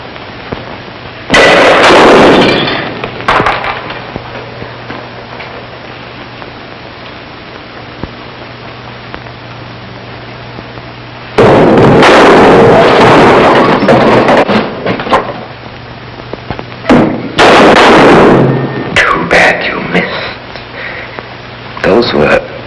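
Two loud, sharp gunshot bursts from a pistol in a low-budget horror movie, ringing out over a quiet background hum with a pause between them.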